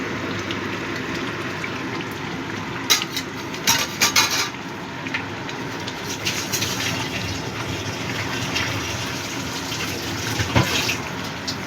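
Pabda fish simmering in a mustard and poppy seed gravy in a pan, a steady close bubbling sizzle with a few clinks of a utensil against the pan.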